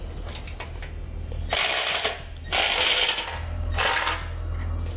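A 3/4 inch socket on a ratchet snugs up bolts for a Curt trailer hitch receiver on a 2019 Ram ProMaster, three rapid bursts of clicking ratcheting close by, with no talk.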